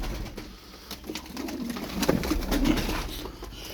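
Low, throaty tumbler pigeon coos rise and fall nearby, repeating in soft bursts over a faint background hum.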